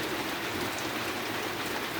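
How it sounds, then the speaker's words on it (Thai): Rain pours steadily at a pig farm raising black Berkshire pigs, a dense, even hiss of drops on surfaces throughout, close and continuous with no pauses. "วันนี้ฝนตก"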